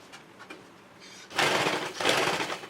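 A sewing machine stitches a blouse sleeve. After a quiet, faint start it whirs in two short, close bursts of rapid mechanical needle action.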